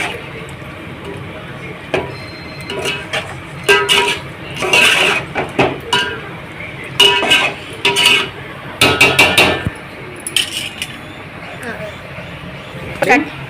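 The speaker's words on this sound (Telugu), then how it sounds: "ఇప్పుడైతే కలుపుతున్నాం చితకకుండా కలుపుకోవాలి" A spoon stirring veg biryani with potato and carrot in a metal pot, giving repeated clinks and scrapes in irregular bursts, close and fairly loud.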